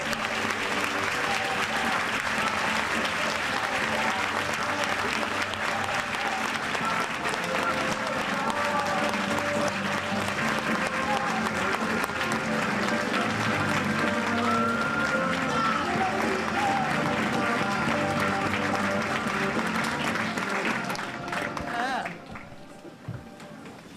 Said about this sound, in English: A round of applause for Alice Waters.